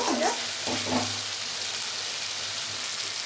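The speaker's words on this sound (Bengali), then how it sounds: "টমেটো দিয়ে দিলাম একটা। ভালোভাবে আমি কষিয়ে নেব।" Tomato sautéing with fresh taro and potato in a pan, a continuous hiss of frying with a few brief stirring scrapes at the start, steady and moderately close, no talking.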